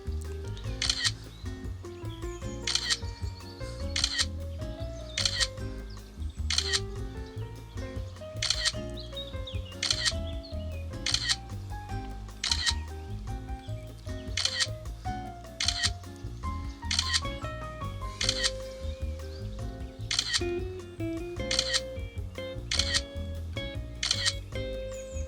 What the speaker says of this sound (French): Et là il va faire ses photos. Au total il y en aura 33.